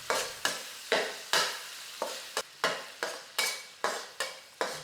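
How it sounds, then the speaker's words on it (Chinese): Bean paste and oyster sauce stir-fried with spices in a hot wok make a crackling sizzle broken by a rapid series of about a dozen scraping strokes, each dying away into the hiss. "然后再炒一炒香。"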